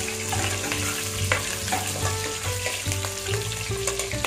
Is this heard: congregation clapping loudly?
no